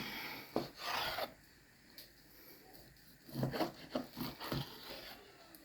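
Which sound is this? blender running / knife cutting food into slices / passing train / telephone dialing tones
knife cutting food into slices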